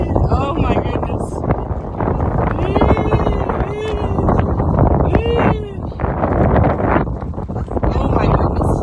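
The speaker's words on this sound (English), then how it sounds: "It's really windy." Strong wind buffets the microphone on the Sky Bridge suspension walkway in Gatlinburg, Tennessee, a constant loud roar running the whole way under excited talking and exclamations.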